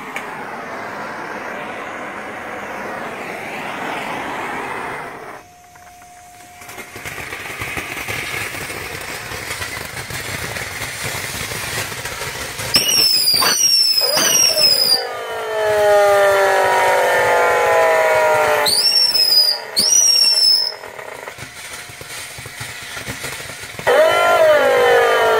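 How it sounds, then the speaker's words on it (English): A mechanical walking dragon shooting fire gives a steady loud roar throughout, with sharp mechanical squeals and hisses that break in partway and return near the end, close by and with no talking. "Lizzie is going to shoot some fire for us."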